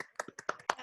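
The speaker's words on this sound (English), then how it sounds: "Let's give yourself a big round of applause." Applause from a small online meeting group, a few scattered hand claps and taps close to the microphone, irregular and brief, with no talking.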